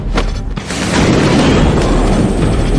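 A smoke grenade thrown during a film fight scene gives a loud, close burst followed by a sustained roaring hiss lasting a couple of seconds.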